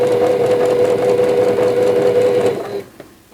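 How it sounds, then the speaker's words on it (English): A sewing machine stitches quilt blocks together, a loud, steady, fast mechanical whir with a constant motor tone, running close for nearly three seconds before stopping with a small click. "And now I'm going to sew the next set of blocks together."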